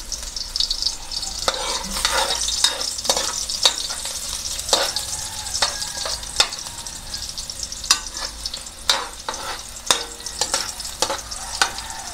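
Garlic frying in a pan for pork dinuguan gives a loud, steady sizzle close up, with repeated sharp spatula scrapes and clacks at an irregular rhythm.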